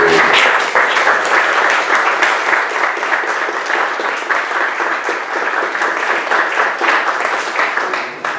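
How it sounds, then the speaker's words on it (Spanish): An audience at a psychoanalysis seminar session gives loud, sustained applause, many hands clapping in a dense, continuous roar that tapers slightly at the end. "vamos a darle un gran aplauso a Jaime porque"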